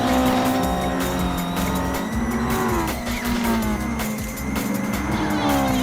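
Race cars in a Challenge Series event roar past on track, a Swift among them overtaking two Art of Speed cars, with loud sustained engine whine, shifting pitch and steady high-revving drone throughout.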